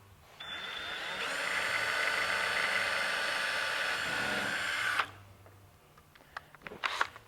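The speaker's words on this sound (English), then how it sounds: "hold tight and drill your second hole" A drill bores a second hole through a kayak hull to mount a pulley, a steady whining burst lasting about four seconds before cutting off, followed by faint small clicks and handling noises.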